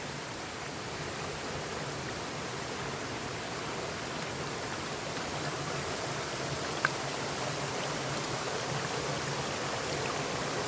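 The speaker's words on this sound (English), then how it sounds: "see if I can possibly get across the creek" A creek flows with a steady, broadband rush of water that stays loud and constant from start to finish, with no voices.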